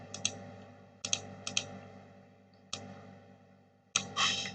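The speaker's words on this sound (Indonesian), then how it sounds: "kita coba ketikkan ya" Sparse keystrokes on a computer keyboard while entering form validation code in CodeIgniter, a few sharp isolated clicks spaced a second or so apart over a low steady hum, fairly quiet and close.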